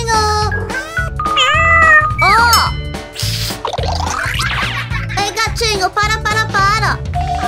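A kitten meows repeatedly in high, rising and falling cries, mixed with a voice over a steady thumping music beat.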